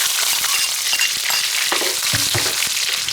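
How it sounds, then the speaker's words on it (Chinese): Ginger, garlic and dried chili hit hot oil in a wok, giving a loud, steady sizzle and crackle with a few scraping stirs of a spatula, close up and with no voices. "下姜蒜、干辣椒"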